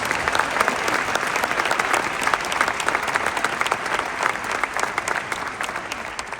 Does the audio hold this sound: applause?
yes